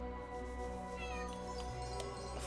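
A cat meows in the video game Chained Echoes, a short clear mew standing alone over a soft, layered game music backdrop.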